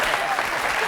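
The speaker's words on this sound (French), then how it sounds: "Alors on peut applaudir quand même très très fort" A television studio audience claps briefly, a dense, even burst of applause.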